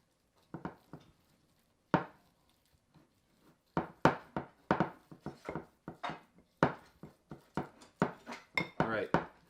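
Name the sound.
mixing homemade salt-free playdough in a bowl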